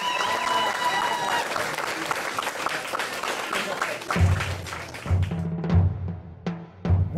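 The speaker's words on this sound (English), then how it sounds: "let's give a round of applause to all the athletes" Crowd applauding athletes at a CrossFit Yuma throwdown competition, a broad wash of clapping and cheering that thins out partway through as voices and low amplified sounds take over.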